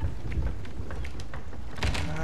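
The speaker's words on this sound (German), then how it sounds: "Donnert schon wieder." Low, continuous thunder rumbling beneath steady rain during a storm at sea in Sea of Thieves, with faint scattered crackles over a constant wash of rain noise and no talking.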